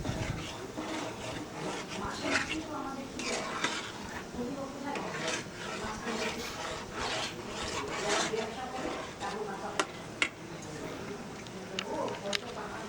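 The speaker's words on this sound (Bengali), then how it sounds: "ক্রমাগত নাড়ছি" Raw mango pulp is stirred continuously in a pan, giving repeated scraping and rubbing strokes against the pan's base in an irregular rhythm, close and moderate in level, with talking over parts of it.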